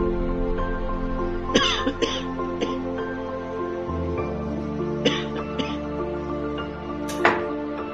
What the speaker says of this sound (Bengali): কাশি হয়েছে খুব